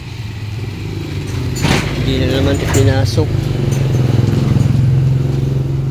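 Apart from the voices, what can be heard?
motorcycle outside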